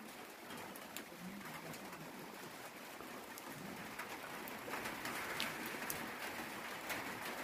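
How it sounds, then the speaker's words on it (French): Steady summer rain falls as a soft, constant hiss, with scattered brief drop taps and a few distant bird calls; no one speaks. "mais ça pleut, hein."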